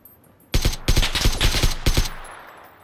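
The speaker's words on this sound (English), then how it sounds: "I'm gonna keep shooting at him." Automatic weapon fire in the battle royale game Battlegrounds during a squad fight: several loud close bursts of rapid shots over about a second and a half, then a fading echo, with no voices.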